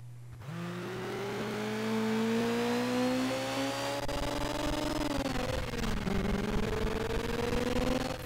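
A compact car races in a PSP racing game run on the PPSSPP emulator, its engine a steady rising drone held for several seconds alongside a constant low hum, with the pitch dipping briefly and climbing again.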